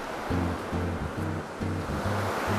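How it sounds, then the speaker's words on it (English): Pacific Ocean waves break and wash in a continuous broad rushing roar with a low rumbling undertone, steady and moderately loud with no voices. "We made it to the Pacific Ocean, the largest ocean in the world."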